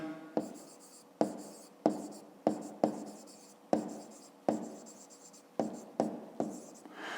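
A pen writes on paper in a series of about a dozen short scratchy strokes, each starting with a light tap and trailing off, close and quiet, with short gaps between them.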